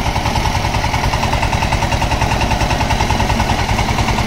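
A heavy-duty 4x4 engine trolley runs in reverse gear with a loud, close, steady chugging diesel rhythm of rapid regular thumps, continuous and without talk.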